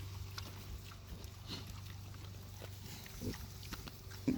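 A pig on a farm gives soft, low, continuous grunting with occasional snuffles and small knocks, quiet and close against a calm outdoor background.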